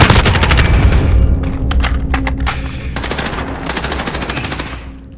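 Loud machine gun fire in Call of Duty: Modern Warfare during a Domination match on the Vacant map, several sustained bursts with short gaps between them, close and dominant over low game ambience.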